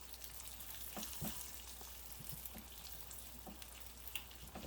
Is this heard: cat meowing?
no